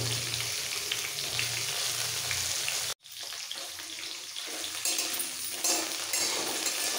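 Chopped radish frying in oil for a simple rohu fish curry, a loud dense sizzle that cuts out briefly near the middle, then returns with scraping and stirring, no talking.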